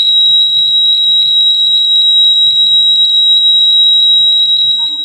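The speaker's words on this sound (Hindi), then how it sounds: "अब साथ लगाता हूँ तो ये कैसी आवाज़ दे रहा है, बीप दे रहा है।" A solar-system inverter with a current leakage fault gives out a loud, continuous high-pitched electronic beep that holds steady throughout, with a faint low murmur beneath it.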